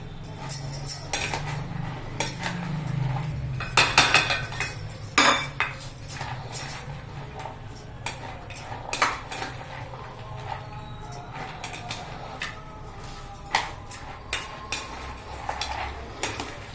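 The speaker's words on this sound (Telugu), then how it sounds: "ఇవన్నీ చక్కగా మిక్స్ చేద్దాము" A spoon stirs and mixes peanut chaat with lemon in a bowl, giving repeated close clinks and scrapes against the dish over a low steady hum, with no talking.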